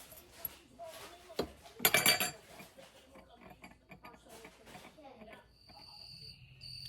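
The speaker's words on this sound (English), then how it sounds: "I can hear the crickets or whatever that is chirping" Crickets chirp in steady high pulses at night, heard from a porch, quiet and somewhat distant, with clinks and rustling near the start.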